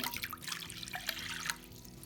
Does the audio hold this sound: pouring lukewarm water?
yes